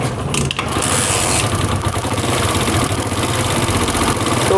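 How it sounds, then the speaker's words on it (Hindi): A Honda CD70 motorcycle engine idles steadily up close after its tappet cover has been tightened, a continuous mechanical chug with a faint ticking texture and no talk over it. "टैपर कवर टाइट करने के बाद हम बाइक को स्टार्ट करके चेक कर लेते हैं।"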